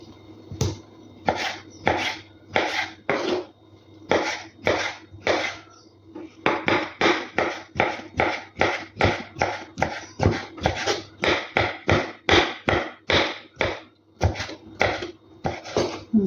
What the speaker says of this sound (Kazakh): Енді сәбізімізді де дәл солай көбіктеп турап аламыз.